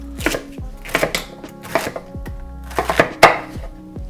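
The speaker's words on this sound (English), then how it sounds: "So everything goes in, just needs to be chopped a little bit." Knife chopping vegetables for lobster bisque stock on a cutting board, a series of sharp, irregular thuds and taps, close and fairly loud, with no talking.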